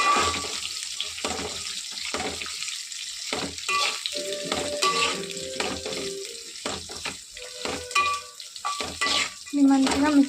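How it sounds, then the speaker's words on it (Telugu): Onions and green chillies fry in a pan while being stirred, a close sizzle broken by repeated scraping strokes with clinks and water-tap sounds, no voices. "సో నెక్స్ట్ ఆనియన్స్, పచ్చిమిరపకాయ వేసేద్దాం. వీటిని మిక్స్ చేద్దాం."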